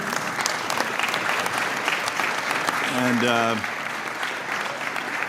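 An audience at a congressional committee hearing breaks into sustained applause, steady and full, while someone speaks briefly over it partway through.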